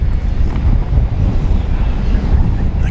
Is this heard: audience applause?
no